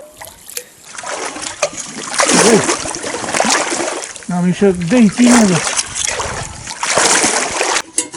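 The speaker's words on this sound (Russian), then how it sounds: "А вон и ручей." Stream water splashes and trickles close by along a spring trail, running steadily beneath the talk of people walking beside the brook.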